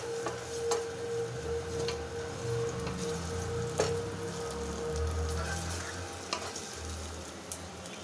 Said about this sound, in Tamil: ஆயில் சூடானோடனே வெட்டி வச்ச கேரட், கேப்சிகம், இப்போ இதெல்லாம் போட்டுட்டு இஞ்சி பூண்டை இப்போ அது நல்லா வதங்குறது வர நல்லா